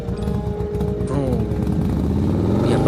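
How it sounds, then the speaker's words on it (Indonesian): A motorcycle engine fires up and revs steadily at close range, its throbbing drone rising through a brief throttle blip and holding strong, with a voice talking faintly underneath. "nyalain motor"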